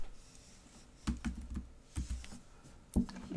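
Typing on a computer keyboard, a few clustered key clicks and taps at close range over a quiet background.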